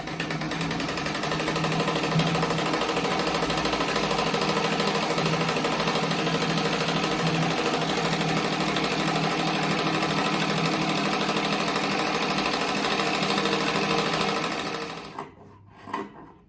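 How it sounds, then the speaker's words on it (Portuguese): Sewing machine running steadily for about fifteen seconds as it stitches around the edge of a handmade rug pieced from leftover fabric, a loud continuous motor whir with rapid needle clatter that stops abruptly near the end. "agora vou passar uma costura para recortar"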